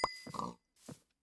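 A pig in the Minecraft video game grunts and oinks in short, close bursts, about three separate snorts with brief silences between, moderately loud and without any talk over them.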